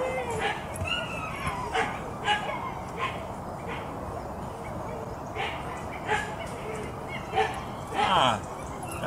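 A dog barks in short yips and whimpers intermittently against steady background noise, with a few louder bursts standing out near the end.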